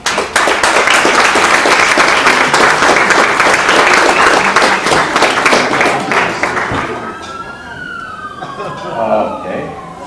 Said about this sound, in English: So give good old Mom and Dad a big round of applause.